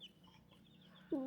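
A young chicken clucks once near the end, a short close call that follows a quiet stretch with faint background sound in an Alaskan farmyard setting.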